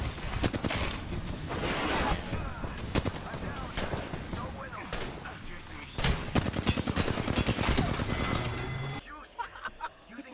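Apex Legends firefight with repeated gunshots and machine-gun bursts, sharp cracks coming in clusters near and mid-distance, dropping off near the end, with a player talking over the shooting.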